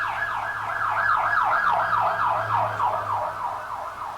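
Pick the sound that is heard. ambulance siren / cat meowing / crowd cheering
ambulance siren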